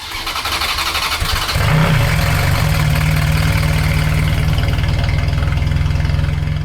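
A Ferrari 430 Scuderia V8 engine cranks, then catches and fires up with a loud roar, settling into a deep, steady, rumbling idle close by.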